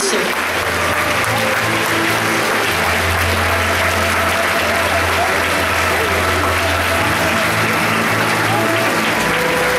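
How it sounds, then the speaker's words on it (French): A large audience applauds costume designer Telos at the Créativa fair, dense sustained clapping filling the hall over a low hum and some crowd noise. "vous pouvez l'applaudir bien fort"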